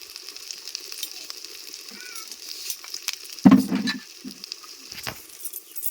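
Chili and turmeric powder frying in hot oil with ginger for a cauliflower dalna, a soft steady sizzle punctuated by one louder clatter of stirring midway, close and without talk.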